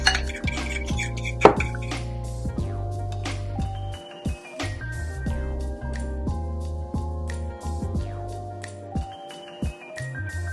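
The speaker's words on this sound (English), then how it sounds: "so this is whisked really well" Ingredients for a vegan sweet potato and chickpea skillet are whisked in a bowl: bright metallic clinks ring out in quick uneven runs with brief pauses, close and fairly quiet.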